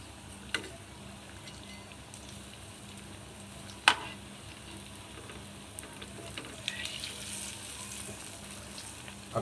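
Bread pakora frying in oil in a frying pan, a steady soft sizzle with occasional small pops and a faint clink near the start, continuous throughout with no talking.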